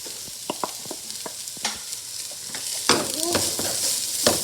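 Grated coconut is stirred into onion, ginger, garlic and chili frying in a pan for a spinach thoran, with a steady close sizzle under scraping spoon strokes and clinks against the pan.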